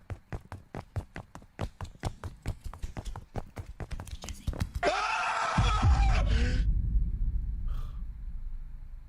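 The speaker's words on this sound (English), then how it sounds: "That death scream." A death scream jumpscare from Breaking Mad, a Breaking Bad indie horror game in which Walter White suddenly leaps out. A steady series of footstep-like taps gives way to a loud, abrupt scream that holds for about two seconds and then drops into a low rumble.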